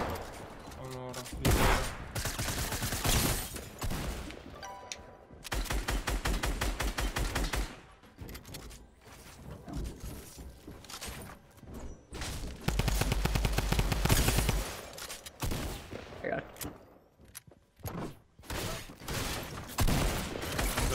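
Bursts of automatic gunfire in a Fortnite match, rapid volleys coming in waves with short pauses between them, loud and close, with game sounds around them.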